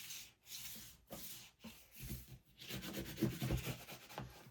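Paper being burnished flat onto a page of a handmade Mother Goose album, heard as soft, close rubbing strokes in repeated passes, growing denser and steadier toward the end.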